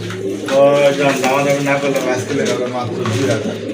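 Running breeding pigeons for sale coo in a loft, a steady layered cooing close by and fairly loud, with voices talking over it throughout.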